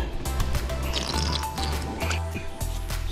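Air bubbling and gurgling out of a pool hose held under the water, a steady wet burble of drips and liquid squishes close by, continuous for a few seconds.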